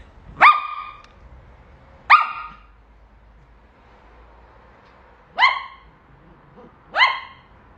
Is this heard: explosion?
no